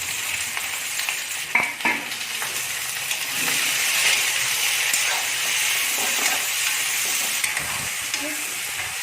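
Capsicum, tomato and red chilli stir-fried in hot oil over a high flame, a steady loud sizzle and hiss with occasional scraping of a spoon against the pan, no talking.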